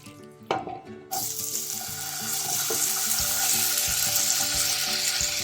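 Vegetables are tossed into a pan of hot oil, a sharp clatter and then a loud, steady, close sizzle that builds and holds for several seconds, with no speech.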